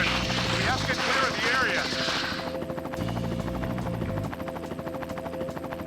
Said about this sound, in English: We just need to destroy this helicopter.